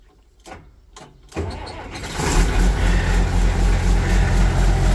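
An old hand tractor engine is cranked a couple of times, then catches and settles into a loud, steady, rough idle, close by and without talk.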